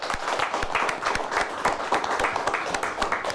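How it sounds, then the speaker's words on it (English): Studio audience applauds both teams after a high school quiz show game, a dense, steady round of clapping from a modest crowd, close and even for its whole length. "Let's give both teams a nice round of applause."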